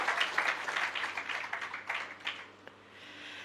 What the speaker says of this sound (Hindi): अपने लिए एक बार जोर से ताली बजा दीजिए, वक्ताओं के लिए तो खूब बजाते हैं, ये श्रोता के लिए बजाइए।